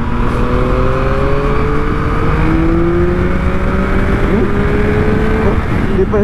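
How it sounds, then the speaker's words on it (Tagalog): A Yamaha MT-09 motorcycle accelerates hard, its engine note climbing steadily in pitch over a loud, continuous roar that holds for about six seconds. "Grabe mag-accelerate si MT-09."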